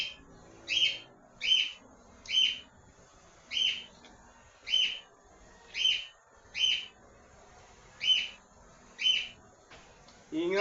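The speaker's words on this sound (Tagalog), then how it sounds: "Maingay alaga natin ibon. Cockatiel." Pet cockatiel calling indoors with a steady series of sharp, bright chirps repeated about every second, fairly near and alone over a quiet background.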